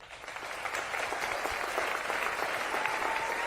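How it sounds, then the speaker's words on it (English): Sustained applause from an audience at a Pennsylvania town hall, many hands clapping in a dense, steady wash that builds slightly and holds. "let's give them another round of applause"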